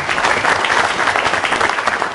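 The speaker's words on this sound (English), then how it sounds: "Round of applause." A studio audience on an Irish live TV current-affairs show breaks into a steady, dense round of applause, loud and close, sustained evenly with no talk over it.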